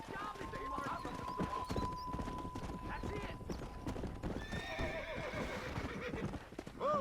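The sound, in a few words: horse clip-clop and whinny in Red Dead Redemption video game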